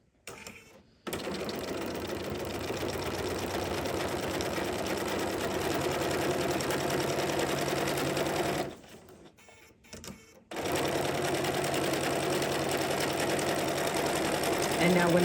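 A computerized embroidery or quilting sewing machine runs in long steady stitching passes, stopping for about a second at the start and again for a short pause near the middle before resuming.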